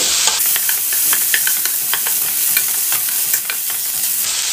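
Ginger and one large tomato cut into eight pieces sauté in a pan for chicken kuzhambu, giving an even sizzle broken by quick stirring clicks and scrapes throughout, with no voices.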